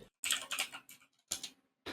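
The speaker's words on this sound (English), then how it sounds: "We just start furiously typing." Fast, furious typing on a computer keyboard comes in two dense bursts of rapid key clicks, close and fairly loud, with brief silent gaps between them.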